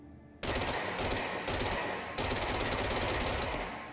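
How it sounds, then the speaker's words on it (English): Rapid automatic fire from the Spin form of the Service Weapon in the video game Control, SMG-like, in loud sustained bursts with brief pauses between them. "let's see what the spin is like. So it's basically an SMG."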